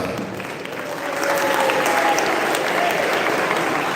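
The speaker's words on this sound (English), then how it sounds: "Audience, please applause." Audience applause at a college event, a broad wash of crowd clapping that swells after the first second and stays loud and steady to the end, with a faint voice briefly audible underneath.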